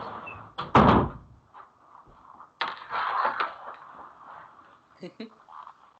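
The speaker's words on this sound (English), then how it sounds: "Do you mind if I just shut the door" An indoor door is pushed shut with a firm, loud thud near the start, followed by quieter handling sounds and some faint voices in the room.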